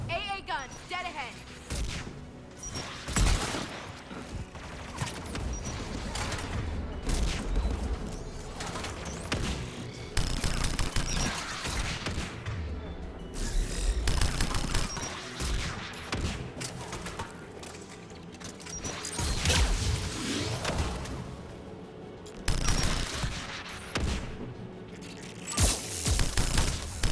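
An anti-aircraft gun fires during a battle in the Mass Effect video game, with dense, continuous booming bursts and rattling gunfire layered over game music and effects, loud and sustained, while voices speak at times.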